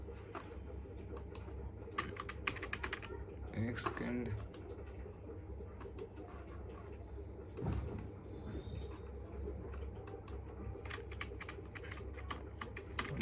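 A desktop gaming PC keyboard being tested gives rapid, irregular key clicks that run throughout, close and clear, with a few louder knocks and a brief spoken remark partway through.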